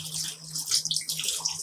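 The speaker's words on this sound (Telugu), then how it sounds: "దీంట్లో కొద్దిగా వాటర్," Water poured from a tap into a pot of mutton keema, a short close splashing gush lasting under two seconds.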